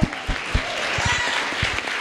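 Audience at a Somali community event in Columbus, Ohio breaks into steady, dense applause, a continuous wash of clapping with a few sharper claps standing out, lasting throughout.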